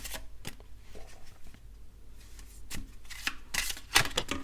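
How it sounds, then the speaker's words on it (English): A deck of cards being shuffled by hand for a tarot-style card reading, with repeated riffling bursts and soft slaps, close and fairly loud against a light background hiss. "Let's shuffle this deck too."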